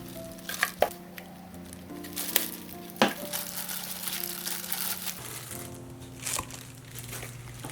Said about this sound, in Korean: 이제 볼에 고기를 넣고 양조간장 7큰술, 다진 마늘 2큰술, 후추 3번 톡톡, 배즙, 설탕 4작은술을 넣고 잘 버무려 주세요.